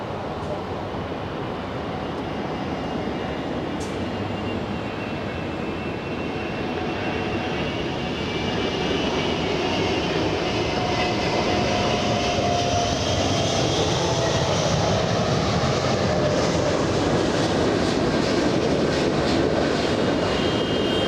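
An Airbus A380 on approach to land at LAX gives a steady, loud, broad engine roar that builds slightly as it nears, with a faint whine riding on top and no talk.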